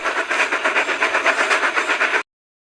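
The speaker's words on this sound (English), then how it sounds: "one of them heard a train coming and there was Callum, speeding by" A train speeds by on rails with a fast, regular clickety-clack of wheels over track joints, loud and close under a rushing roar, then cuts off abruptly.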